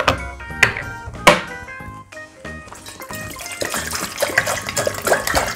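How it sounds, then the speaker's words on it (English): Hot water is poured into a plastic bottle and then poured back out, giving close, splashing and gurgling liquid sounds with a few sharp knocks, growing busier and more continuous toward the end. "We pour hot water in a bottle and pour it out."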